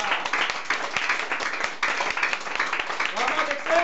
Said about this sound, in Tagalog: Isang malakas ang palakpak sa Diyos na buhay.